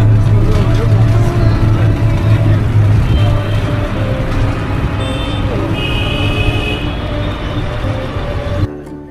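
An auto rickshaw carrying six passengers rumbles along city streets in Ujjain, its engine drone and road noise steady throughout, with traffic sounds around and occasional faint horn-like tones.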